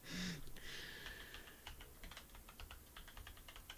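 Typing on a wireless computer keyboard, a quick irregular run of light clicky keystrokes close to the mic, faint, with no talking.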